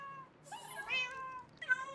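Several cats meow in drawn-out, rising and falling cries, two distinct calls close together with one more starting at the end, fairly faint and with no talk.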